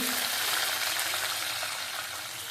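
Chana dal, curry leaves and dried red chillies fry in hot oil with a steady, dense sizzle that stays loud and close throughout, easing slightly toward the end.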